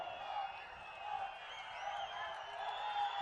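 Steady crowd applause with some cheering at a public event where the Prime Minister lays foundation stones for hydropower projects, a continuous dense wash of clapping held at an even level throughout.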